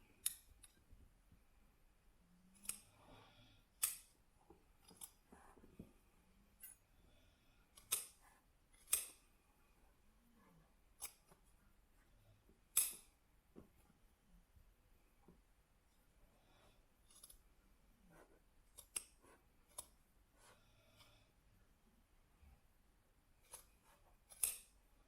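Scissors cutting felt and plastic wrap for slippers, giving sharp isolated snips spaced irregularly across a quiet room, each close and crisp, with faint rustling between cuts.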